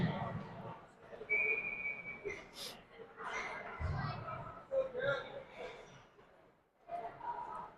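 A referee's whistle blows once, a short shrill blast at a youth ice hockey game, followed by a commentator talking over crowd and rink noise.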